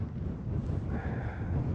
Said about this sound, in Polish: wiatr wieje